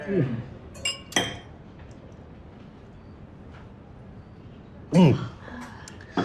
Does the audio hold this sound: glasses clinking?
yes